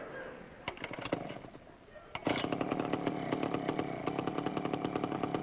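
A small motor, compared to an outboard engine, sputters with a few pops, then catches and runs with a steady rapid chugging, fairly close, without speech over it.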